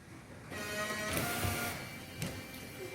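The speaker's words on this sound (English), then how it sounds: "Windscreen washer and wipers." A VW Golf GTI Mk6 windscreen washer and wipers run, a brief mechanical motor whir with a sweeping wash sound rising after a quiet start and holding steady for a few seconds, with no voices.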